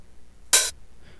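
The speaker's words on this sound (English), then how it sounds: "Open hi-hat sounds like this." A single open hi-hat drum sample for trance production: one short, bright, hissing cymbal burst that sustains briefly before cutting off, heard alone in quiet.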